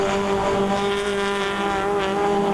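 Race cars at speed on the Tarumã circuit during a touring car round reaching about 170 km/h, a loud continuous engine roar with high revving harmonics, close and sustained without pause.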